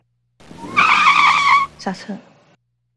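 A car braking sound effect: a loud, sustained tyre screech of about a second, followed by brief voices talking.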